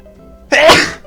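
One sudden, loud sneeze bursts out close to the microphone after a brief quiet moment, a sharp explosive release that trails off within about half a second, heard during a SpongeBob game recording.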